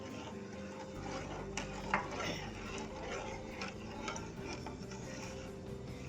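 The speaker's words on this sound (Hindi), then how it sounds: "अब हम इसमें मतवातर अपना चम्मच हिलाते रहेंगे जब ताकि फिरनी नीचे ना लगे चावल" A spoon stirs rice into hot milk in a pot while cooking pistachio almond firni, giving a steady soft scraping and swishing with faint clinks against the pan, close and continuous with no talk.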